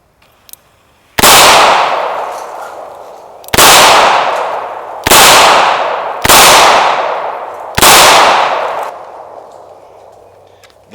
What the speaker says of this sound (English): now I'm gonna shoot it double action